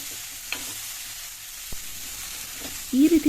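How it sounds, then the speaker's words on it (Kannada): Cauliflower fries in a little oil on a low flame, producing a steady soft sizzle with occasional stirring scrapes, close by, and a brief voice near the end. "ಈ ಥರ ಸ್ವಲ್ಪ ಆಯಿಲಲ್ಲಿ ನಾವು ಫ್ರೈ ಮಾಡೋದ್ರಿಂದ ತುಂಬಾ ಟೇಸ್ಟ್ ಚೆನ್ನಾಗಿ ಬರುತ್ತೆ ಸ್ವಲ್ಪ ಲೋ ಫ್ಲೇಮಲ್ಲಿ ಮಾಡಬೇಕು"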